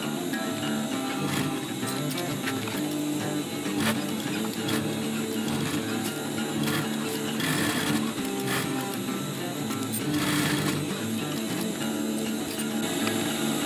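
A sewing machine runs steadily while stitching webbing onto a DIY chest pouch in a box-and-cross pattern, a continuous mechanical whir that fills the whole stretch with only small changes in pace.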